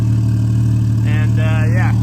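A twin-turbo Porsche Cayman idles after a cold start, a loud, steady, close engine drone with a strong low hum, while someone talks over it.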